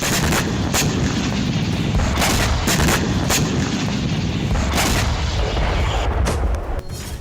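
Missile strikes on Russian warships at Sevastopol port, heard as loud continuous rumbling with repeated booming blasts and sharp cracks over dense, roaring noise.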